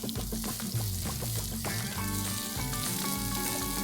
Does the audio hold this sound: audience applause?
no